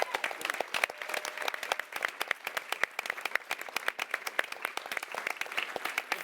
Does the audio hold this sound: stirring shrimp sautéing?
no